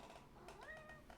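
A cat meows in a drawn-out, rising and falling call in the game Kingdom Come, heard fairly clearly over a steady background.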